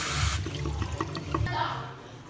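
Cold water running from a tap over a pressure cooker, a hissing rush that cuts off early, followed by a few clinks and handling sounds as a person talks.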